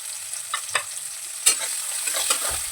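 Two medium onions, chopped, fry in hot oil with a dried red chilli and whole garam masala for a spicy chicken curry, with soft sizzling and a few close, distinct scrapes of stirring.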